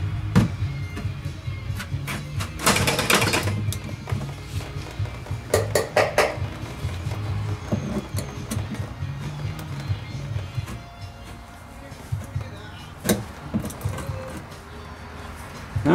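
A knife scrapes and cuts into a thick new plastic gas tank, making irregular scratchy bursts, one louder grinding stretch and scattered sharp clicks, close up with no talk.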